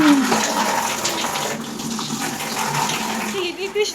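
Water splashes and gushes while someone bathes by pouring it from a bucket, close and continuous over the whole stretch, with people talking over it.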